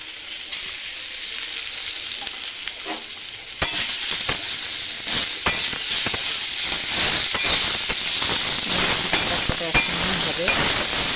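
Tomatoes, ginger and garlic go into a frying pan of already fried onion and capsicum, giving a close, continuous sizzling hiss broken by sharp clicks and scrapes of stirring.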